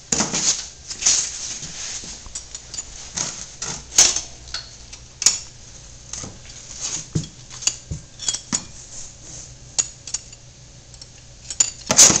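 Wrenches work at the oil drain plug of a lawnmower, producing sporadic sharp metallic clicks and ratcheting ticks, close and clear over a quiet background, irregular in rhythm with a few louder taps.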